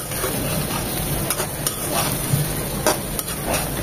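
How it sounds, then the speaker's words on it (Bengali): Lightly fried eggplant is stirred into spice masala in a pan for a catla fish curry. A soft sizzle runs throughout, with scraping strokes of the spoon and occasional taps against the pan. "বেগুনের সাথে মশলার সাথে ভালোভাবে নেড়েচেড়ে মিশিয়ে নেব।"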